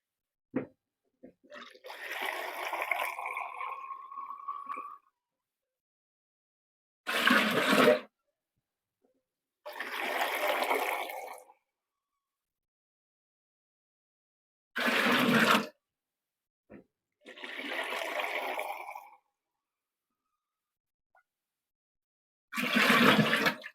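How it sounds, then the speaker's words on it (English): Tap water gushes in several separate bursts into a large canning pot holding twenty glass jars, each pour lasting a second or two, with silent gaps between them. "So I'm going to fill up more water."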